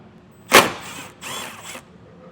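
A 10mm bolt worked loose from the underside of a 2025 Mazda 3 with a ratchet: a sharp close clack followed by a short stretch of scraping, clicking mechanical noise.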